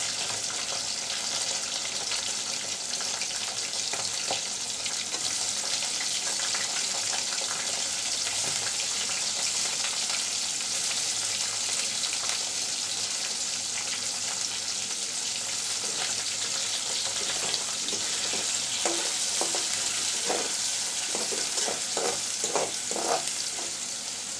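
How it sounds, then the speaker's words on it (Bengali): Onion, garlic and dried fish fry in a pan with a continuous close sizzle, joined by scattered scraping stirs that become more frequent toward the end, with no one talking. "পেঁয়াজ আর রসুনটা নরম হওয়া পর্যন্ত শুক্তির সাথে বেজে নিচ্ছি"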